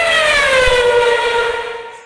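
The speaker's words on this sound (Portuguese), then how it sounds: "Este é o som de um carro quando ele passa por você." Formula 1 car racing past with a loud, high-pitched engine whine that slides steadily downward in pitch as it passes, then fades toward the end.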